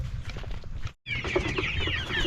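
A native chicken clucks and squawks close by on a farm, busy rapid calls broken by a brief silent cut, then louder agitated cackling with a noisy background.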